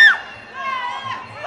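Fans in the crowd at a GP Extreme Muay Thai bout shout and cheer in short, bright bursts of raised voices, fairly near and loud over a quieter murmur.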